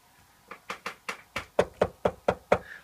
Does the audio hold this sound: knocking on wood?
yes